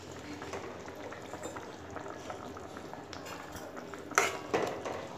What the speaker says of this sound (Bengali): ঝোলটা আমার ভালো মতো ফুটে এসছে